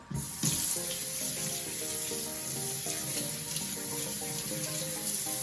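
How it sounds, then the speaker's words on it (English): A towel is rinsed under a running tap, with a continuous steady rush of water splashing into a sink. "So this towel I'm gonna rinse out, put this to the side."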